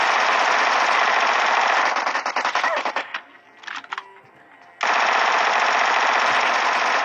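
A Vector submachine gun fires in a shooter video game, loud continuous automatic bursts that break into scattered shots and a quiet lull before the rapid fire resumes at full volume.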